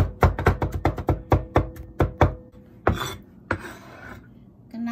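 A knife mincing crushed garlic cloves on a chopping board, a rapid run of about a dozen close, loud chops followed by a couple of scraping sweeps.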